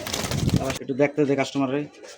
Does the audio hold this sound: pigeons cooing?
yes